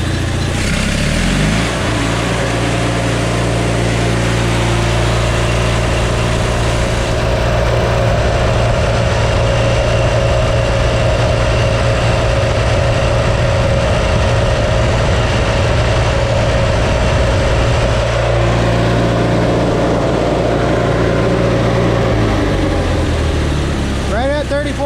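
Onan engine on a John Deere 318 garden tractor running steadily at high RPM with the PTO engaged, a loud continuous drone with a strong low hum that holds throughout and drops off at the very end.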